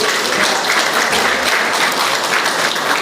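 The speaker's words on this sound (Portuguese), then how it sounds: "Quantos podem aplaudir e glorificar o Senhor?" A church congregation applauds during a special worship service, a steady, dense wash of many hands clapping close and loud without a break for the full stretch.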